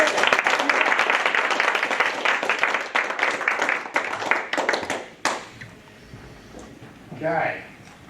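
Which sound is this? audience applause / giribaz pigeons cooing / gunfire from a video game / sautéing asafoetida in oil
audience applause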